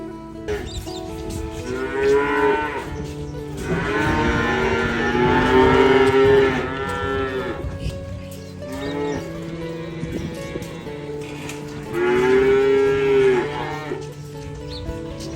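Dairy cows on an Australian farm mooing loudly and close by, several long drawn-out lowing calls in succession with short gaps between them and no talking.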